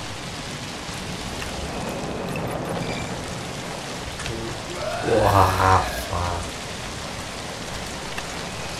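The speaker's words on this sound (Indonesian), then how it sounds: "Hujan." Rain falling in the zombie video game ZOMBI, a steady hiss of drops filling the scene, with someone briefly talking over it midway.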